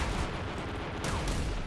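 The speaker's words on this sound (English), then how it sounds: "It sounds like a Tommy gun." A Tommy gun firing in a video game, a short continuous burst of rapid, loud rattling shots.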